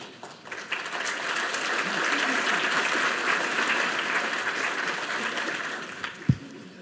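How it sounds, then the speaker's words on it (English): Audience applause fills a lecture hall as a professor is welcomed to the stage for a naval history talk, steady and sustained for several seconds with a brief louder thump near the end. "you better be cheering and applauding"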